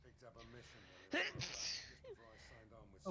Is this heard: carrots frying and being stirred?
no